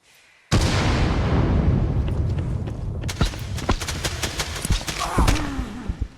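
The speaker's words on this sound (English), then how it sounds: "I'm getting shot to piss" Gunfire in the EXFILZONE video game strikes the player: a sudden loud burst opens into dense, sustained shooting with sharp individual cracks and thuds stacking up close and continuing without a break.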